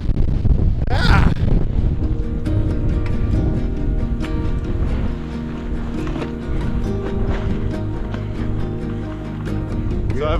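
Santa Ana wind gusting across a microphone on an open desert trail, a loud continuous buffeting roar with a sharp blast near the start.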